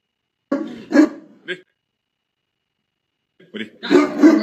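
A Tibetan Mastiff, a huge lion-like dog, barks in a few loud, deep bursts near the start and again at the end, with a silent gap between them.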